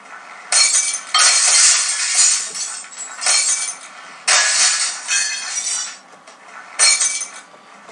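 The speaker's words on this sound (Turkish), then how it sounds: "Kafasıyla cam kıran adam." Loud bursts of shattering glass repeat in several crashes as a ragdoll character smashes through panes head-first in the Happy Wheels game, with no speech.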